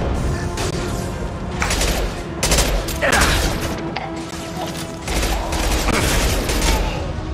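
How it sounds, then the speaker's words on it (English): Heavy gunfire bursts and booming impacts from a Mass Effect battle, with a loud sustained volley, a sharp high-pitched whine near the middle, and renewed firing toward the end. "Firing a high impact shot!"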